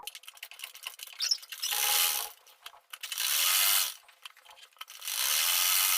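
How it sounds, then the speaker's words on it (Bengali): A sewing machine back-stitches a pocket seam on a salwar, running in three loud whirring bursts separated by short pauses with faint clicks and handling noise. "এবার আমি এখানে এখান থেকে আবার ব্যাক করে সেলাইটাকে দুইটা করে সেলাই দিয়ে নেব"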